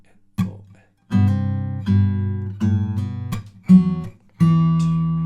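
Guitar plays verse part 2 of a song, a series of plucked chords with C bass notes, struck one by one with ringing sustain and short pauses between, close and clear with no voice.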